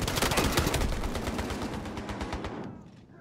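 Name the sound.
submachine gun fire in video game Battlefield Hardline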